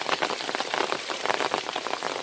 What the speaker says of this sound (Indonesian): ini sangat deras sekali hujannya